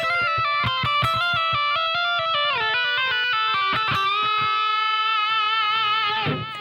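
Slow electric guitar lick with a wah pedal and distortion, sustained notes bending and sweeping in tone one after another, close and loud with no talking.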